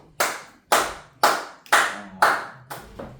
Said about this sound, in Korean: 그러면 나는 분명히 박수를 쳐